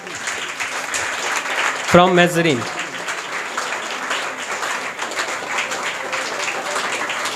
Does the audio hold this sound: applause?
yes